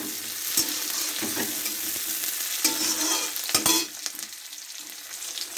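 Tomatoes stirred in a frying pan for a potato and rohu fish curry give a steady, close sizzle, broken by scraping stir strokes and a few sharp utensil knocks, with no talking.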